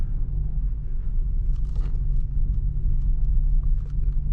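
A DS7 Crossback E-Tense 4x4 creeps forward through mud under gentle throttle, giving a steady, close low rumble with faint scattered splashes and squelches above it, and no talk.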